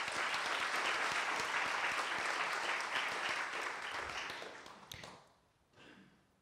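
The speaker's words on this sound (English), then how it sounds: "you can applaud that" A live audience breaks into sustained applause, dense and even for several seconds before tapering off and fading out near the end.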